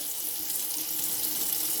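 Steady rush of tap water running into a sink while chicken eggs are washed by hand, continuous and fairly close with no talking.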